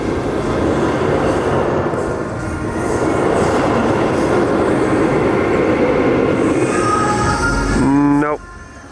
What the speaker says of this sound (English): the train is now transferring over